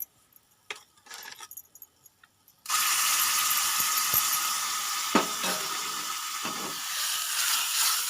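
Hot tempering is poured into an ivy gourd and peanut chutney, bursting into a loud, sustained sizzle and hiss after a few quiet clinks, fading slightly as it settles.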